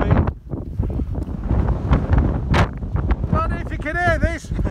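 Strong wind buffets the microphone on an exposed Peak District hilltop, loud, gusty rumbling throughout, with voices talking under the blustering noise.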